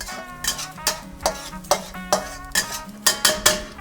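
A curved wok tool scrapes and pushes food around a Kuhn Rikon covered wok skillet, about a dozen quick, close, rhythmic scraping strokes against the pan with faint sizzling underneath.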